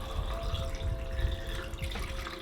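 Film developer liquid poured into a developing tank at home, a soft continuous watery stream with faint ringing tones, steady and close for a couple of seconds.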